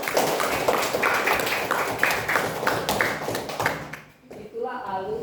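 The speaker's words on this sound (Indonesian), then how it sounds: "Tepuk tangan dulu Pak Eva." A classroom of students claps in quick rhythmic patterns for a teacher during an Islamic history lesson, a lively burst of hand claps that fades out near the end.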